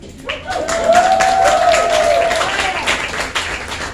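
An audience at a story slam breaks into steady, full applause with a few cheers, clapping loudly and evenly as a storyteller is welcomed to the stage.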